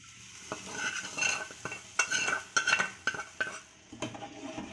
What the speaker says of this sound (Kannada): ಸ್ವಲ್ಪ ಈ ಥರ ಫ್ರೈ ಆಡಿಸ್ಬೇಕು, ಮುಟ್ಟಿಸ್ಬಾರ್ದು.